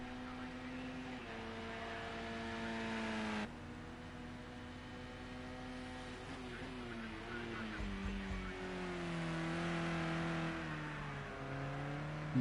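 A race car in a touring car racing game takes the final corner, its engine note climbing and dropping through gear changes, fairly loud and continuous, with a brief low thump partway through and faint commentary under it.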